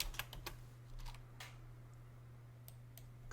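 Quiet keystrokes on a computer keyboard while working in jewelry CAD software: a few sharp clicks in the first half-second, then scattered single taps, faint and close over a steady low hum.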